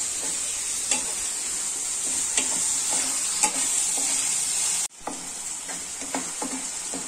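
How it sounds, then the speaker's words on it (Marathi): Tomatoes sautéed with reddened onions in a pan, giving a bright continuous sizzle with periodic taps and scrapes of a spatula, close and steady, with a brief dip partway through. "आता टोमॅटो टाकते त्याच्यात. टोमॅटो चांगला परतून घ्यायचा."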